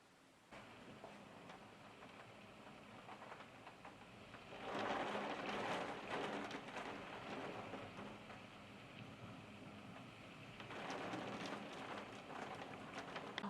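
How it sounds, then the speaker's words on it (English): Big fat raindrops fall in a sudden shower, a soft steady patter that swells into louder bursts of heavier rain twice. "Started raining the big fat raindrops."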